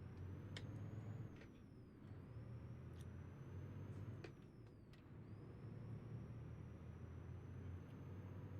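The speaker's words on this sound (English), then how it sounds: "You gotta warn me when you start hitting the brakes," Truck air brakes in a trucking simulator game give short hissing bursts over a steady low engine drone, fairly quiet and with no talking.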